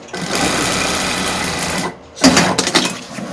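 A Sunstar 235 sewing machine, with its presser foot loosened, stitches thick padded fabric. It runs at a steady, close whir for almost two seconds, pauses briefly, then restarts in shorter, uneven bursts.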